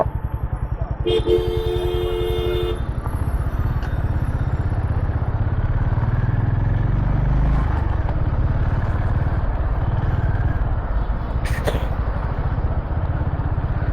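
A Honda CB350 RS motorcycle is ridden with a steady, loud engine rumble and wind rush throughout, plus brief high tones early on and a short clatter near the end.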